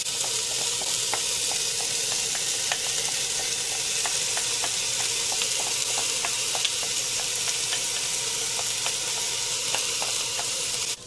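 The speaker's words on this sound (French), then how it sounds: "On va mélanger le riz et les mung beans pour que les épices puissent se coller directement sur le mélange." Rice and mung beans for kichari are stirred into spices frying in a pan, giving a steady, continuous sizzle with faint repeated ticks of a utensil against the pan throughout, no voices.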